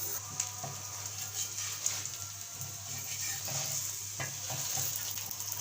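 Aloo paratha fries in ghee on a pan with a steady, close crackling sizzle and a low hum underneath, and no talking.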